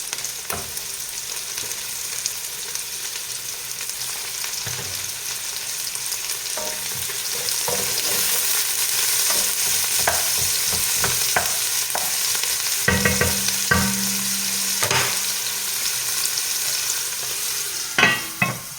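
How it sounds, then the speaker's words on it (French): Smoked bacon lardons frying in a pan, a steady close hiss of sizzling fat with occasional scraping and stirring clicks, no talking. "On fait cuire nos lardons à peu près 2 minutes."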